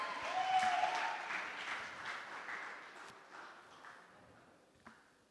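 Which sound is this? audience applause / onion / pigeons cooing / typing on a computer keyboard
audience applause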